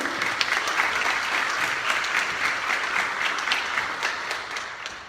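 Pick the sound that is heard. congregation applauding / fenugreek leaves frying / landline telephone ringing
congregation applauding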